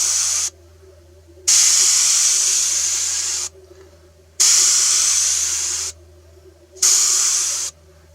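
An airbrush sprays paint onto a flocked mallard drake decoy in four close, steady hissing bursts of about one to three seconds each, separated by short pauses, with no talking.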